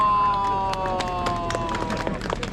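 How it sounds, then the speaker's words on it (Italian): Applause from people gathered at an outdoor flea market in Piazzola sul Brenta near Padova: a short, fairly close burst of scattered clapping and cheering with some faint background tones. "Applauso!"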